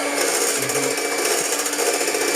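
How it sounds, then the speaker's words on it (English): An electric egg beater whisks eggs toward soft peaks on high speed, giving a loud, close, continuous whirring buzz throughout with no speech. "We are going to be whisking these eggs until they reach a nice consistency."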